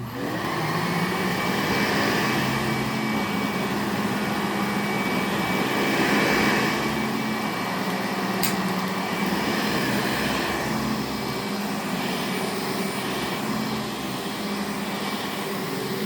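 A different-brand vacuum cleaner rolling across carpet gives off a steady, continuous motor whir with a broad airy roar that holds an even level throughout, close by and with no voices.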